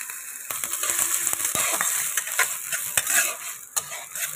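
Chopped coconut pieces frying lightly in oil for Bengali cholar dal, with a close sizzle broken by sharp scrapes and clinks of a spatula stirring against the pan; no one speaks.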